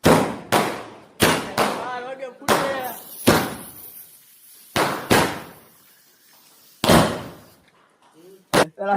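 Several sharp firecracker bangs go off in quick irregular succession at a birthday celebration, loud and close, with people's voices in between the bursts.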